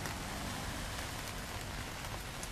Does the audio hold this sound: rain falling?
yes